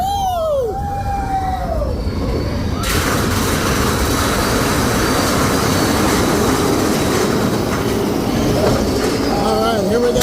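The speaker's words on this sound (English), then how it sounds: "We're on Big Thunder Mountain Railroad. It is a little loud in here." A mine train roller coaster on Big Thunder Mountain Railroad at Magic Kingdom gives a loud, steady rattling rumble of cars on track. Brief whoops and cheers from riders come right before the roar sets in.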